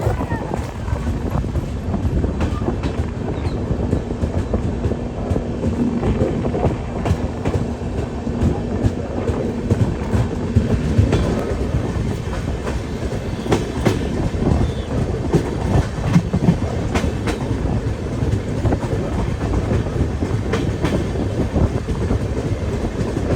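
The Dadar–Jodhpur Express (14808) runs on the tracks in India. A loud, steady rumble and rhythmic wheel clatter continue throughout, with wind buffeting the microphone.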